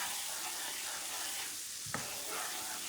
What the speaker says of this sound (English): we want to brown our onions